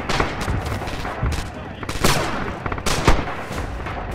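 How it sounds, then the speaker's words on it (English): Heavy artillery in the World War II shooter Red Orchestra 2, loud repeated blasts and bursts of gunfire landing in irregular clusters. "I'm dropping heavy artillery"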